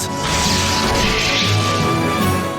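A loud crackling, crashing burst from the Shock Bolt spell effect in the video game Heroes of Legionwood fills the scene, with a sustained electric sizzle and a heavier impact near the middle.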